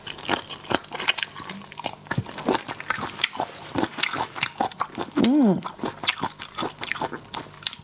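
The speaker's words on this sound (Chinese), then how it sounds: "咱们现在吃一个叫麻辣章鱼足" Reheated spicy octopus tentacles are bitten and chewed close to the mic, with wet squishy crunches and smacking in an irregular rhythm and a brief stretchy squelch near the end.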